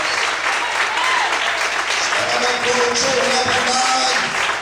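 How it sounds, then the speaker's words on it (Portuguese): A church congregation claps loudly and continuously in a packed, reverberant room, with voices and a speaking or calling voice mixed in above the applause. "Mais forte as palmas."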